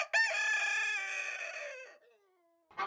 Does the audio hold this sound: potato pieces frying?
no